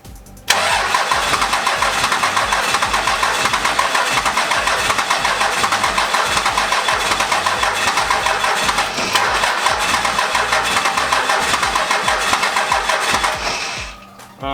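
A Cummins diesel engine being cranked by its starter during fuel bleeding, a loud, continuous rhythmic churning that runs for about fourteen seconds before cutting off abruptly near the end.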